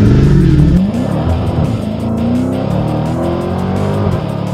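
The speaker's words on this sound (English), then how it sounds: "This thing's basically made to do burnouts." A 2017 Dodge Challenger Hellcat does a burnout, its supercharged engine revving loudly while the tires squeal and skid, close and sustained with rising and falling engine pitch throughout.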